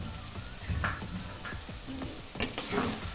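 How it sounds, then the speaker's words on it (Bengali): Chopped tomatoes tumble into a pan of frying spice paste for a Bengali chicken jhol, giving a close, steady sizzle with bursts of stirring and scraping from a spoon against the pan. "এবার আমি এর মধ্যে কুচি করে রাখা টমেটোটা দিয়ে দিব।"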